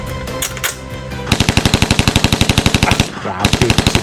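Rapid bursts of automatic gunfire ring out close and loud, a long rattling string of shots followed by a short pause and another burst, from a mock barracks assault.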